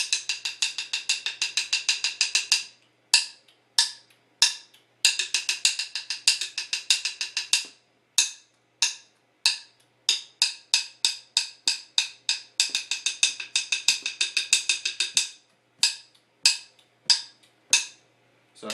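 A basic rock drum groove played with sixteenth notes, with bursts of rapid, evenly spaced hits alternating with sparser single strikes, loud and close with no talking.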